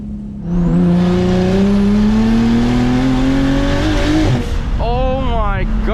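A BMW 335is engine on two-step anti-lag roars loud and close while driving, holding a sustained high rev before the pitch drops and it sweeps through quick rising and falling bursts.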